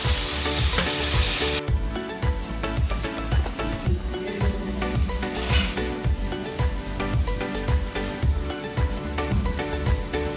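Taro stolons and prawns with spices and a splash of water fry vigorously in a pan over high heat. Steady sizzling runs under rhythmic, repeated scraping strokes of a spatula throughout.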